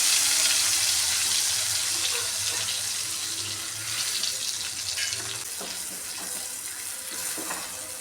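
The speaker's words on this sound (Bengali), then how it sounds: "একটু জল দিয়ে দিই।" Water is poured into a spice paste while cooking, giving a loud, close rushing splash that gradually eases, with faint sizzling and a few clinks toward the end and no talking.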